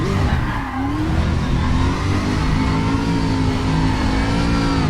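A 900-brake-horsepower car held in a drift, its engine revving hard and loud while the tyres squeal and skid continuously close by, the pitch rising and falling with throttle changes.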